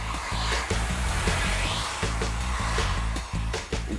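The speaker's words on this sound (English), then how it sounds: "After a thorough treatment, how's Courtney coping with being, hoovered?" A vacuum cleaner hoovers with a loud, steady roaring hum, and its motor note rises and dips in short rhythmic pulses as the nozzle is worked around, with no talk over it.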